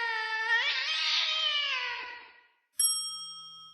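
An ending jingle sung entirely as cat-like meows by a voice imitating a cat, with sliding, wavering tones that fade out, then a short pause before a bright ringing chime that sustains and decays.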